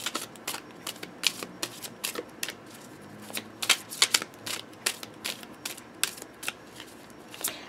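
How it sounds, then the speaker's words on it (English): Laminated glossy tarot cards are shuffled by hand in quick, uneven bursts of crisp riffling clicks, close and clear with no talking. "So I'm really, really happy with how this shuffles for, again, a laminate glossy style card"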